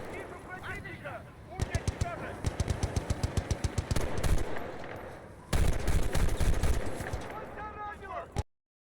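Bursts of rapid automatic gunfire in the video game Battlefield Bad Company 2, loud and close, in two long strings of shots with other game noise, while a voice shouts over the opening.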